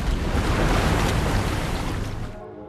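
Ocean surf rolls along Africa's southern coast in a loud, continuous wash of breaking water with wind buffeting the microphone, fading slightly at the end.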